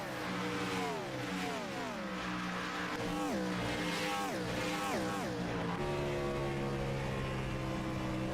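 Sim-racing race car running off turn 2 onto the back straightaway at Las Vegas, engine tones sweeping up and down through repeated revving shifts, with other cars droning alongside and commentary underneath.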